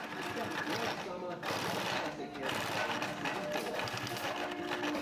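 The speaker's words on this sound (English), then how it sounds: "we first sew the outside of the pocket and then turn them out" A sewing machine stitching the outside of a leather tool belt pocket, a steady close mechanical whir and chatter running throughout with short pauses.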